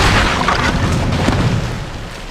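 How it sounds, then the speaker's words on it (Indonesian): A bomb strapped to a man's body detonates in a film scene, a loud sustained boom with a rumbling, crackling tail that slowly fades over about two seconds, with no voices. "Milton meledakkan bom yang dipasang di tubuhnya sendiri."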